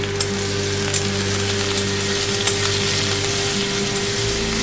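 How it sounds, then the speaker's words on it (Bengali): Sliced onion and green chillies frying in oil in a pan, a continuous close, loud sizzle with faint crackles and an occasional stirring scrape, and no talking. "ভালো করে আমি এটা ভেজে নেব।"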